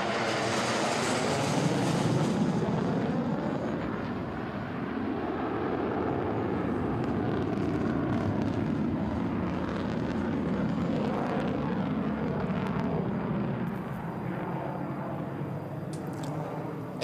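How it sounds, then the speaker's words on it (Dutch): A Saab AJ 37 Viggen jet powered by a Volvo RM8B engine roars continuously during an air show demonstration at Volkel, a broad, loud rumbling thrust that swells and shifts slightly in pitch as it passes, no talk. "En ook zoals bij de Saab Draken wordt ook deze Vikken aangedreven door een Volvo motor, namelijk de RM8B."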